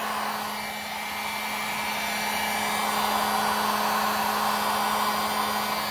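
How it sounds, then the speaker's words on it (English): Heat gun blowing hot air on its low setting while shaping a custom shoe covering, a steady close whoosh with a constant motor hum, slightly swelling in strength and continuing alone without talk. "take your heat gun, put on the high setting"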